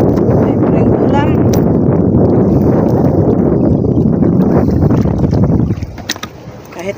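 Wind blows hard over a small fishing boat at sea, a loud rushing roar with water splashing against the hull under close speech, easing off in the final second.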